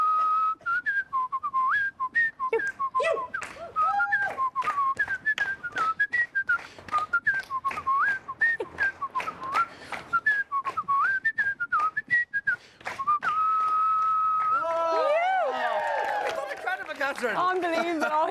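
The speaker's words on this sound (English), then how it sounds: "do you want to give us a go with the whistle?" A man whistles a lively Irish traditional tune solo at the Fleadh music festival, the melody quick and ornamented, with a steady held note near the end before applause and cheering break out.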